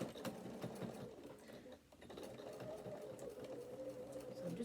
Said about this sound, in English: So I'm just back stitching till I get back to the top and then carry on all the way around.